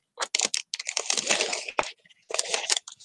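Crisp crunching snips in short bursts as scissors cut through a dried gourd shell, a rough brittle cutting sound with brief pauses between strokes, close up.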